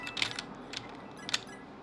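Coins collected in the Roblox game Murder Mystery 2, a few short bright metallic chimes spaced apart over a faint steady background, with no talk.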